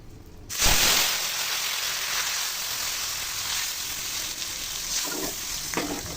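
Cumin seeds dropped into hot oil in a pan for a moong dal with radish and beans, bursting into a loud, steady frying sizzle that holds throughout, close and without talk.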